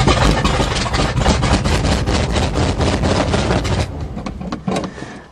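A 1977 GMC 400 small-block truck engine cranking in snow, loud rapid rhythmic turning-over beats that continue steadily then fade slightly toward the end, no voices heard.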